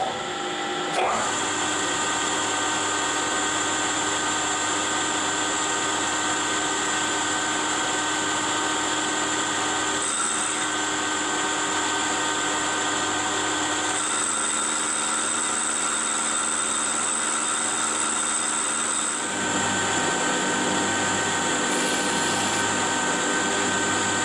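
A lathe bores out a brake drum, giving a steady, loud machine drone with a constant tonal whine and cutting noise that holds for the whole stretch, shifting slightly in pitch now and then.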